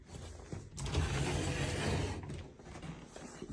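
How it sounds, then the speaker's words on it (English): Sticky closet doors in an apartment interior dragging and rattling open, a continuous scraping, grinding mechanical rub lasting a few seconds at moderate distance with no talk. "So the closet doors are a little bit sticky, but it's okay."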